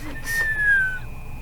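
A character in Edna & Harvey: Harvey's New Eyes whistles one clear, slowly falling note that lasts about half a second, heard close over a quiet background hum.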